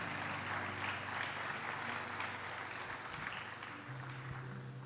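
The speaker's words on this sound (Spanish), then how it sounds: "Palmas a nuestro Dios." A church congregation applauds in a dense, steady wash of clapping that stays continuous and even throughout, over a low electrical hum.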